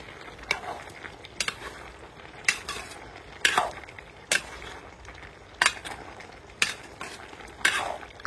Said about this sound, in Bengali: আর মাঝে মধ্যে ঢাকনা খুলে আমরা চামচ দিয়ে নেড়ে দিব।